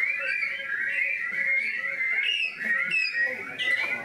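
Many people in an audience whistling together at once, a dense chorus of high, rising peeps overlapping continuously, imitating spring peeper frog calls.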